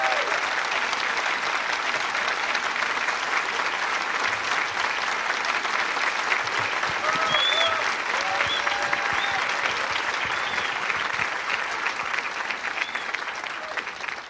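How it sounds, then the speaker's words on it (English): An audience at an event applauds steadily to welcome a speaker to the stage, with dense, sustained clapping from a large crowd that continues evenly for about fourteen seconds before easing slightly at the end. "If you would bring to the stage with a great applause our next Superintendent of Public Instruction, Ryan Walters."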